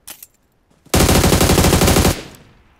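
A loud, close burst of automatic gunfire in a shooting video game rattles for about a second, following a couple of brief earlier taps, then decays into a fading echo.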